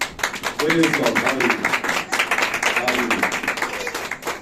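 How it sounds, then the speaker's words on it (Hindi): A church congregation claps during a sermon on Jesus Christ's promise, with scattered hands tapping over a voice speaking throughout the short stretch. "आप खुदा के कलाम के लिए तालियां बजा सकते हैं"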